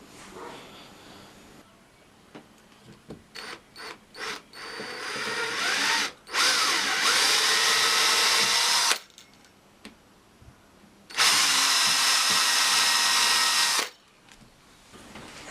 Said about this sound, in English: I marked the centre point near the tip of the scriber where I'm going to drill the hole to put the panel pin into